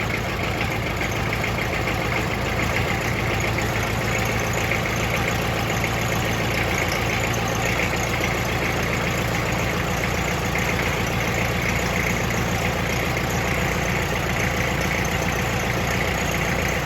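Kubota Ranger diesel engine running steadily at idle after a head and intercooler install, a constant close, loud mechanical drone with a slight knock, no talking.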